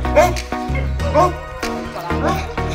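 Several deep dog barks come in bursts, close and loud, over a steady low background hum.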